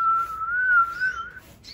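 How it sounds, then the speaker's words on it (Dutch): A person whistles a single sustained, gently wavering tone, then a short higher note at the end, clear and alone over faint background noise. "Kan ik goed fluiten, pa?"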